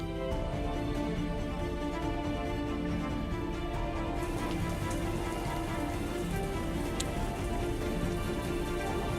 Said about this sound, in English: as you approach, you can hear the rain beginning to fall.